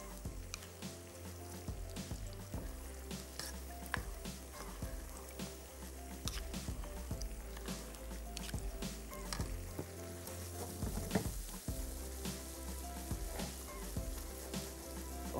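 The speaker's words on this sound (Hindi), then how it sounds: "हम इसके अंदर अपनी लौकी की भुनाई शुरू कर देंगे।" Bottle gourd frying with sugar in a hot pan, a continuous crackling sizzle with scattered sharper pops and occasional stirring scrapes, steady and close throughout.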